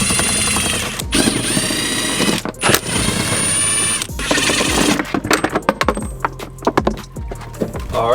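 Power tool hammering at bolts on a Wildcat 700 Sport UTV, loud bursts of rapid rattling impact in several runs separated by short pauses, with sharp clanks toward the end.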